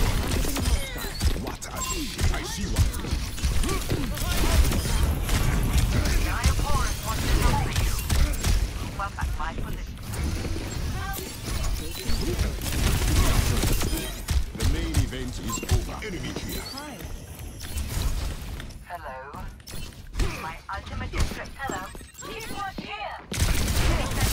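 Heavy, continuous gunfire in a multiplayer video game as many players shoot at a single target, dense bursts and impacts crackling nonstop for over twenty seconds under frequent excited talking.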